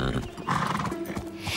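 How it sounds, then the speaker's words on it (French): A cartoon pony trots along, its hoofbeats mixed into a busy soundtrack with music and other sounds, moderately loud and steady for a brief moment. "Ashley a une sacrée allure sur ce cheval. Ce n'est qu'un poney."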